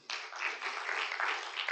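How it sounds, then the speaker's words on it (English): A small audience claps lightly for a couple of seconds, soft and fairly distant, with no voices over it. "A little applause."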